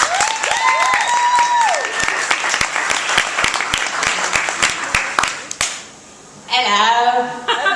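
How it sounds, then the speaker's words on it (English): A comedy show audience applauds loudly with dense, steady clapping for several seconds, briefly dipping before a voice rises over the fading noise. "Give her a big round of applause, everybody."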